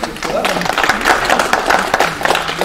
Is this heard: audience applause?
yes